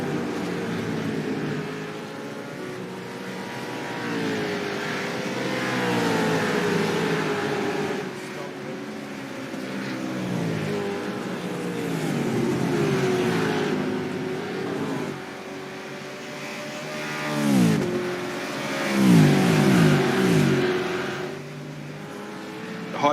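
Supercars race cars, second-hand looking Fords and Holdens, roaring past on a New Zealand circuit, engine notes rising and falling in waves over a steady crowd-and-commentary wash, with a sharp swell of passing cars near the end.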